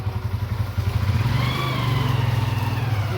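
A motorbike engine idles with a steady, throbbing putter close by, rising slightly as riders climb on, with no talk over it.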